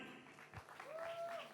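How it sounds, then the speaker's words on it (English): Brief stretch of audience applause at the Hi-Life Fest 2023 show, soft clapping from a crowd heard at a distance with some background murmur. "A round of applause for Caroline."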